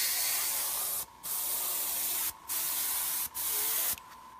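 A spray gun hisses steadily as it sprays paint to weather a scale model, with loud continuous bursts broken by three or four brief pauses.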